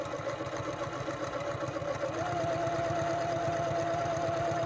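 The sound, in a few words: sewing machine stitching in the ditch on a pot holder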